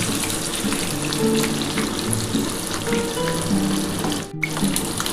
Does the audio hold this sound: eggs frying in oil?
yes